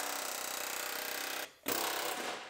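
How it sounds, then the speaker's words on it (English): Pneumatic air chisel with a flat bit hammering out spot welds on a 2015 GMC Terrain Denali frame rail, a loud, dense rapid-fire rattle that cuts out briefly midway, then resumes at full force. "put it in there and chisel out the welds"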